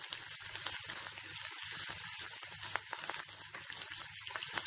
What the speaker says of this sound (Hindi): इसे भी थोड़ा भून लेती हूँ। और मैं इसमें करी लीव्स